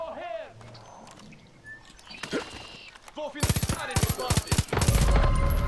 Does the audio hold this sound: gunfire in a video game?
yes